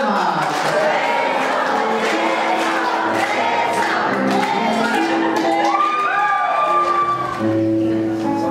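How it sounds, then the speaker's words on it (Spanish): Guests at a religious wedding ceremony in a church clap and cheer loudly after the closing blessing, a dense, steady wash of applause with shouts and whoops mixed in throughout. "fuertes palmas"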